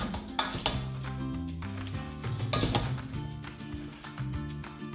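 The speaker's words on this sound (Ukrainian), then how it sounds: "А тепер все добре перемішуємо." Danube vegetable salad being stirred in a bowl, with clinking and scraping of a utensil against the dish and wet shuffling of chopped vegetables, steady and close, with a musical backing running underneath.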